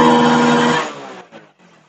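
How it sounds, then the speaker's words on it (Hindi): A Hero Splendor motorcycle engine with a misfiring problem is revved: a short, loud, close whine that holds briefly and then falls away as the throttle drops. "अब मैं आपको रेस लेकर दिखाता हूं।"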